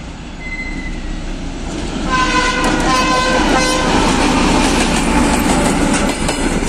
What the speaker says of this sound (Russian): Там ЧМЗ с каким-то вагоном.